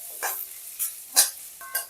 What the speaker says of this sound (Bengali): এরপর আলুর সঙ্গে পেঁয়াজটাকে ভেজে নেব